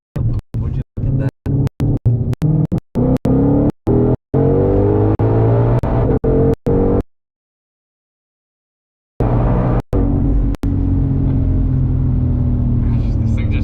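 A 2021 Ford Mustang Shelby GT500 running its track exhaust roars and revs loudly up close. The deep rumble is broken by sharp clicks and a brief silent gap midway.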